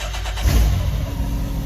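A Can-Am X3 side-by-side fitted with an RPM 3-inch electric dump exhaust cranks and fires up on the stock exhaust, a loud close engine start that settles into a steady rumbling idle with no talking.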